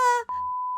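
A Siri voice assistant activation beep rings out as a single clear electronic tone, with a second brief chime shortly after and a steady held tone filling the rest, close and alone.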